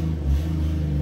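A rear-wheel-drive car that had trouble starting in snowy cold weather struggles as its engine revs, a low, uneven rumble swelling briefly then holding, heard up close.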